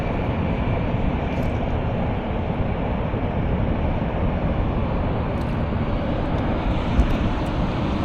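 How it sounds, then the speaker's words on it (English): An Army helicopter passes overhead near the Sunshine Skyway Bridge, a steady, loud engine and rotor drone that holds without break, heard from a kayak out on the water. "Can you see that Army helicopter?"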